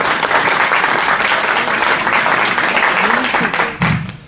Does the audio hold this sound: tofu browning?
no